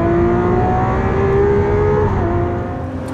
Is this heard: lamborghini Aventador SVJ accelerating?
yes